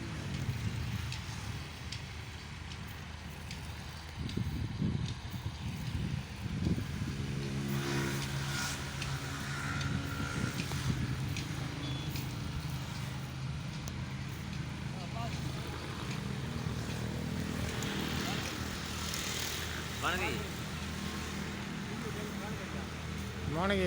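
A tractor engine runs on a farm where grass is being fertilized and watered, rumbling steadily and close by for the whole stretch, with people talking over it.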